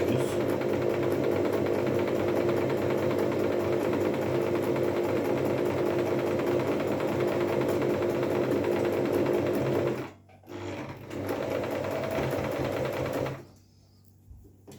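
A Singer Promise 1412 sewing machine stitches at a steady, fast rhythmic whir with the pedal pressed, running continuously for about ten seconds, then stopping, restarting briefly, and cutting off.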